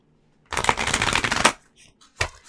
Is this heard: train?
no